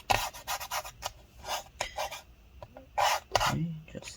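Inside an early-2015 13-inch MacBook Pro A1502, gooey gunk is scraped out during a battery replacement. Short, close rasping strokes come in quick bursts with small gaps, and a few faint clicks fall between them.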